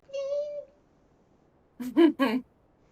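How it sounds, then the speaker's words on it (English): A kitten meows once, a short complaining cry after being unable to get down from a chair, followed by a brief burst of nearby speech; close and fairly loud in a quiet room. "that is my kitten complaining at me because he couldn't get down the chair"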